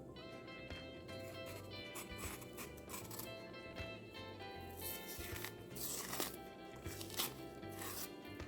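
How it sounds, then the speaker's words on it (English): Green plantain skin being peeled and torn away by hand, a steady stream of rubbing, crackling and scraping close up, with no talk. "I'm gonna go ahead and peel my plantain."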